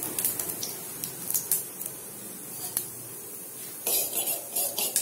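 A metal spoon clinks and scrapes against a pan while a spoonful of ghee is added for semolina kheer, scattered sharp clatters over a soft background hiss, no talking.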